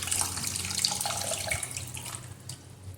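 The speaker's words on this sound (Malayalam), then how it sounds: "അപ്പോൾ ഞാൻ അതിലേക്ക് കുറച്ച് വെള്ളം കൂടി എക്സ്ട്രാ ഒഴിച്ച് കൊടുക്കണ്ടേ." Extra water pours steadily into a pot of Kerala-style sardine curry (mathi curry), a continuous splashing stream that stays close and fairly loud and tapers off slightly toward the end, with no talking.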